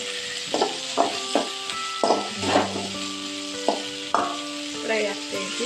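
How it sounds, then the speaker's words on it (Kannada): Tomato fries in a pan for beans palya, a soft sizzle broken by several spatula stirs and scrapes against the pan, with tuneful background music underneath. "ನೆಕ್ಸ್ಟ್ ಟೊಮೆಟೊ ಹಾಕಿಬಿಟ್ಟು ಅದನ್ನು ಫ್ರೈ ಮಾಡಬೇಕು"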